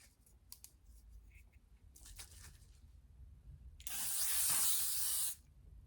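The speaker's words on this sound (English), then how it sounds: "The L'Oreal Infallible 3-second setting mist. Everybody needs to try this." A L'Oreal Infallible 3-second setting mist is sprayed in one strong, steady hiss lasting about a second and a half, following a few faint clicks and rustles in an otherwise quiet room.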